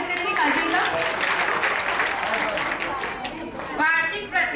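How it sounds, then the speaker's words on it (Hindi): Audience applause at a school Republic Day celebration, welcoming a student: dense, loud clapping from a crowd that fills the whole stretch and tapers near the end. "जोरदार ताली से स्वागत करेंगे काजल का।"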